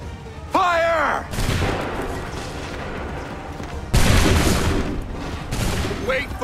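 Musket volleys in Assassin's Creed III: a shouted command and a groaning cry, then two loud massed volleys a few seconds apart, each with a long rumbling tail. A voice calls out again near the end.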